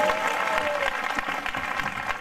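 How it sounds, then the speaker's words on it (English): A church congregation claps during a worship service with a prophetic preacher, creating dense, lively applause that holds steady and loud, with a brief vocal tone near the start. "Are you clapping for Jesus?"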